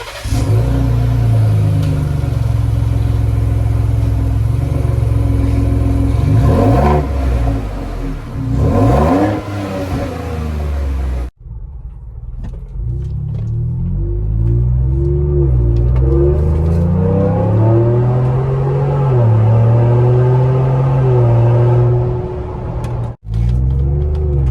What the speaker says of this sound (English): the finished result should look like that with dual exhaust now instead of a single exhaust